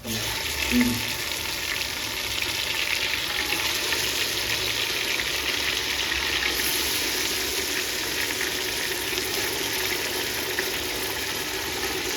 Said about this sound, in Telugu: మనం ముందుగా మ్యారినేట్ చేసి పెట్టుకున్న చికెన్ని ఆ వేగిన దానిలో నూనెలో వేసుకోవాలి